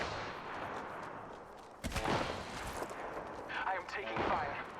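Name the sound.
gunfire from the video game Apex Legends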